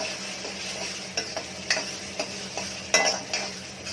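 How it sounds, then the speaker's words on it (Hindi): Ginger-garlic paste frying in a tawa for pulao gives a steady, fairly loud sizzle, with regular spoon scrapes and taps against the pan every half second or so and no voices. "ये करीब 1 या 2 मिनट तक इसको हम लोगों ने ऐसे ही फ्राई करेंगे।"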